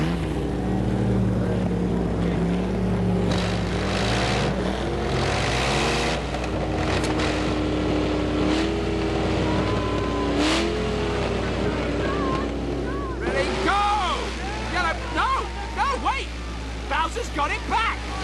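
Homemade power puller vehicles built from junkyard parts rev their engines loudly and continuously, the pitch rising and falling while people talk and shout over the roar.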